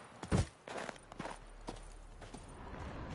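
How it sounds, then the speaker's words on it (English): Horse hooves in The Witcher 3 clip-clop in a loose, uneven series of soft thuds, one louder hit early, then lighter steps fading, quiet against faint background. "There's the horse."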